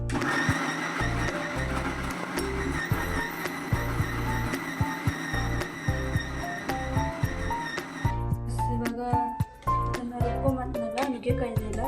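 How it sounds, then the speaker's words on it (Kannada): A mixer grinder whirs loudly and steadily as it grinds drumstick, tomato and onion, its motor pitch shifting, then changing to a rougher, sputtering grind partway through. "ಸೊ ಇವಾಗ ಇದನ್ನು ಗ್ರೈಂಡ್ ಮಾಡ್ಕೊಳ್ಳೋಣ ಮಿಕ್ಸಿಗೆ ಹಾಕ್ಕೊಂಡು."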